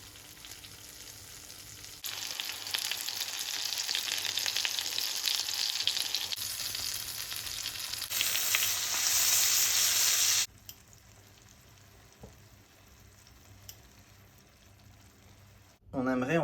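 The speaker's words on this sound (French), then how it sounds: "J'augmente la température de manière assez conséquente de ma poêle et je vais aller saisir mes scalopines." Veal scaloppine searing in melted butter in a hot frying pan, a loud steady sizzle that swells when the meat goes in, then drops to a quieter background hiss before flaring again at the end.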